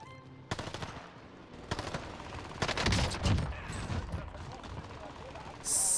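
F2000 assault rifle gunfire in the video game Warzone: rapid automatic bursts of shots with game effects and mechanical clatter, loud and close.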